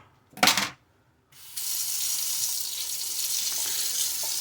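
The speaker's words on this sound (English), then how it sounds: "bring it over here to the sink, and we're going to go ahead and rinse it off." A kitchen faucet gushes as a brined squirrel carcass is rinsed at the sink: a short burst of running water, a pause, then a steady, fairly loud stream of water splashing continuously until the end.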